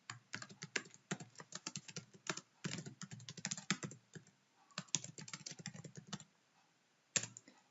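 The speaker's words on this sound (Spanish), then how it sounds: "Vamos a la pestaña de tareas y escribimos sin más una tarea." Fingers type a task into Outlook on a computer keyboard, with bursts of quick close key clicks separated by brief pauses and a final single keystroke near the end.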